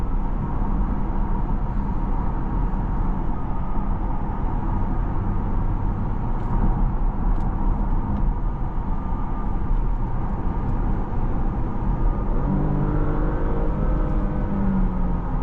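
A 2025 Porsche Panamera accelerating in Sport Plus mode, heard from inside the cabin as a steady, loud drone of engine and road noise with no talking.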